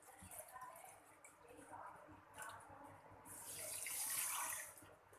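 A bowlful of water is poured onto sugar to make syrup for semolina gulab jamun, a soft, quiet splash and trickle that swells into a fuller pour toward the end.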